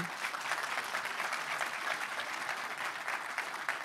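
An audience at a hackathon prize ceremony applauds the winners with steady, even clapping from a crowd that carries on throughout.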